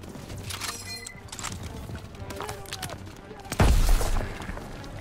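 A grenade goes off in a first-person shooter game, a sudden loud low blast partway through that rumbles and fades over about a second, with game noise and chatter around it.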